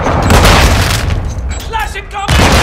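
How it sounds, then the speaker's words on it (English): A cruise missile strike lands in Call of Duty: Modern Warfare 2 on the Breenburg Hotel map during team deathmatch, giving loud heavy booms and rumbling blasts with gunfire mixed in, broken briefly by a game voice line. "Friendly cruise missile deployed."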